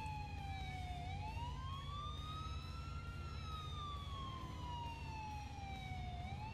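Ambulance siren from the video game GTA 4, a loud, continuous wail that sweeps slowly up and down in pitch over a steady engine rumble, with no talking.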